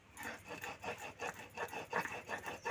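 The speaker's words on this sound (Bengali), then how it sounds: "দেখুন ভালো করে বেটে নিচ্ছি" Henna leaves being ground with catechu and lemon, a steady rhythmic rasping and rubbing of stone on paste repeating about five times a second, close and moderately loud with no talk.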